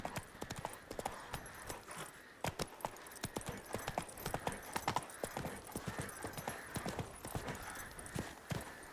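Roach the horse gallops in The Witcher 3: Wild Hunt, a brisk, continuous clip-clop of hooves pounding in a steady rhythm, close and clear, with a faint whinny-like edge.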